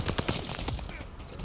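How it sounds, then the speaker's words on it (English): Rapid gunfire in the WWII shooter game Call of Duty Vanguard, a dense burst of loud, fast cracks filling the brief moment before trailing off. "that's shooting from over here"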